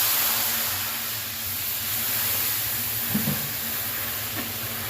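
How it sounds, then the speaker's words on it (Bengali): Water poured into a hot pan of paneer curry with sugar and turmeric, giving a steady broad steamy hiss and sizzle that runs throughout, fairly close, with faint bubbling and no talk. "এবার দিচ্ছি জল।"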